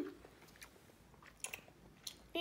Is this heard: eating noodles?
yes